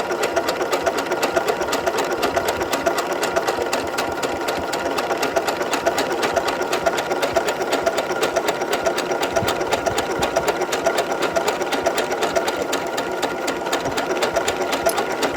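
A Continental M8 sewing machine stitching mirage stitches runs steadily and fast, a dense rapid needle chatter with a constant motor hum, close and loud throughout without pause or talking.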